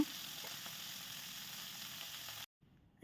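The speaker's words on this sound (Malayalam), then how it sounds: "അതിനുശേഷം അതിലേക്ക് സൺഫ്ലവർ ഓയിൽ ഒഴിച്ചു കൊടുക്കുക. അടച്ച് വെച്ചൊന്ന് ഫ്രൈ ചെയ്തെടുക്കുക." Chicken pieces fry under a lid in sunflower oil and ghee, giving off a steady, even hiss of sizzling that cuts out abruptly after a couple of seconds.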